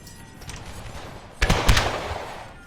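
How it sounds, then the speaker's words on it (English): Musket volleys crackle in a Napoleon Total War battle as Prussian and British lines exchange fire in a forest, a couple of sharp distant reports over a low battlefield rumble. "Just look at this line of smoke as the Prussians and British exchange fire throughout this forest."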